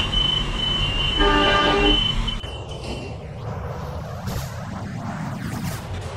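R110A subway train in a Roblox game, with a loud tonal horn-like blast for about a second before the train noise settles into a steady rumbling run with shifting rail tones.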